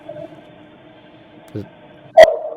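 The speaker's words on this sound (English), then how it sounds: "Now that sounds like a bark." A single short dog bark on outdoor surveillance audio rings out near the end over a faint steady hum, preceded by a brief muffled grunt-like sound.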